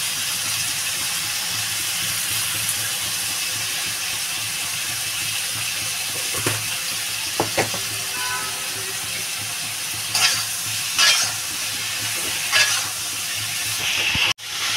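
A pan of potato and eggplant curry with chicken eggs fries with a continuous sizzle as chili powder goes in, with a few sharp taps and stirring scrapes of a spoon against the pan near the end.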